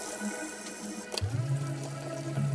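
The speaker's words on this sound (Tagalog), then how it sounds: "Hugasan natin ang manok." Chicken feet being rinsed under a running kitchen tap, a steady stream of water splashing, then a sharper clatter and the flow changing pitch as the water hits the pieces and fills the basin.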